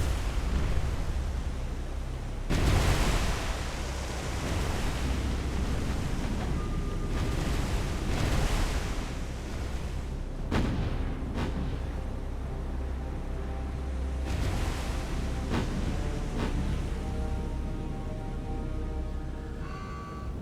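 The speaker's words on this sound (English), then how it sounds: "Just make sure the Sendai sinks and watch these torpedoes attack." Torpedo hits and explosions in the naval war game War on the Sea, with a Sendai cruiser under attack, heard as loud rumbling blasts and a broad roar of water and wind, with several sharp bursts over about twenty seconds.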